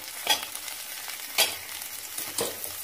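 Coconut pieces sautéing in a pan for a village-style fish curry, with a steady low sizzle broken by three scraping stirs roughly a second apart, close by with no voices.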